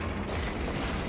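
Bolt rifle handling in the video game Space Marine 2: a dense, loud mechanical clatter of ratcheting, creaking metal parts that runs steadily for about a second, with no talking.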